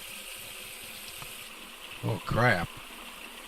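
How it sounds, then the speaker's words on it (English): Blood pours and spills during a surgery scene, a continuous hissing, gushing trickle in the background, briefly covered by a short exclamation from a voice. "I'm going to pour the blood back in."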